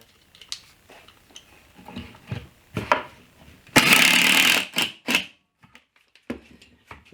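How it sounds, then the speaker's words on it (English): A power drill drives 1¼ inch screws into a wood board while a kitchen island is built. One loud whirring burst of about a second stands out among scattered clicks and handling knocks, with quiet gaps between. "I will bring it down even on the bottom here and screw it in with"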